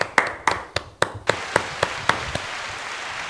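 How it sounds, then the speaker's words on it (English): A handful of people clap in a small room, about a dozen sharp, separate claps in a loose rhythm that thin out and stop, heard close with little else around them. "Let's go. Clap it up."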